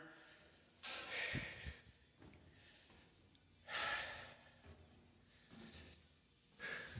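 Heavy, labored breaths while climbing stairs come in several loud bursts separated by quieter pauses, close and rhythmic.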